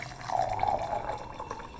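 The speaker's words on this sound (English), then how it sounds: "first I'm going to add water" Water pours into a glass holding chia seeds, a short close burbling fill that rises and then tapers off.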